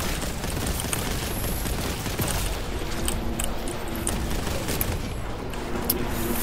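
Grav cannon gunfire from the video game Warhammer 40k: Boltgun crackles in a dense, continuous barrage of booming shots and impacts at moderate loudness, with no voices.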